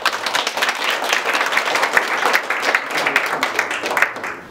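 Dense, sustained audience applause at a formal school ceremony in Yunlin County, many hands clapping steadily at an even level for the whole stretch, with no voices on top.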